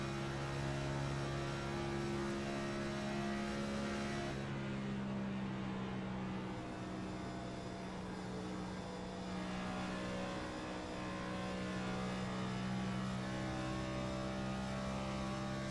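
A race car engine from a Kansas oval sim race holds a steady, droning high-rev note in fifth gear, continuous and fairly close with a low hum underneath, and no voices.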